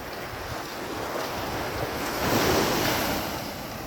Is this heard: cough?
no